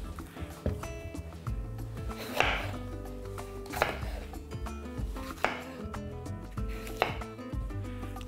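A knife slices sweet pepper into sticks on a cutting board, a run of close, regular wooden thuds and taps, quiet and steady, with faint background sound and no clear talk.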